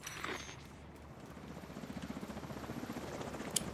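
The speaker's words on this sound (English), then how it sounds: "Enemy helicopter approaching." An enemy helicopter approaches in a shooter video game, its rotor building into a quick, even thumping pulse that stays fairly quiet behind a low steady hum, with no talking.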